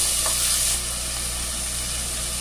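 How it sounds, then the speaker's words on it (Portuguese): Garlic, onion and bell pepper sizzle in a hot pan with fat, a loud, steady frying hiss that starts brighter and settles into a constant crackle. "Aqui vai um dente de alho para refogar. Aqui vai a cebola e o pimentão."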